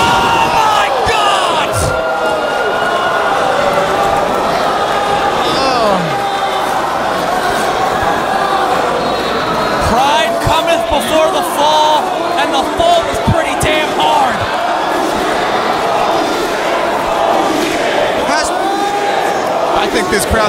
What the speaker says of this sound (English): This crowd says it all.